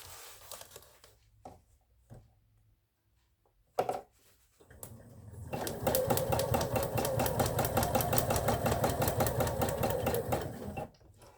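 Sewing machine stitching a paper-pieced spider quilt block, a few short stops and starts, then a steady, fast mechanical run of rapid needle strokes, close and fairly quiet.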